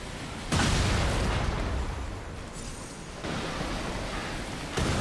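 Cannons fire in the game Lies of P, three heavy booms landing a few seconds apart, each a loud, close burst that leaves a dense, noisy rumble trailing between shots.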